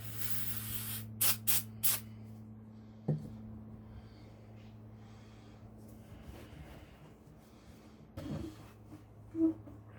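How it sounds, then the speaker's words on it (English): Brake cleaner is sprayed onto a crankshaft during home crank polishing, giving several short sharp hissing bursts early on over a low steady hum, then quieter rustling and a couple of later soft hisses. "now you'll get your brake clean again"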